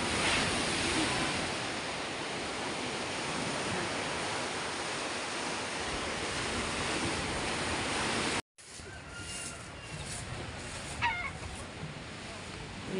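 Strong sea waves surge onto a shore during rough weather with wind, a continuous loud roaring wash that briefly cuts out, then resumes with faint voices in the background.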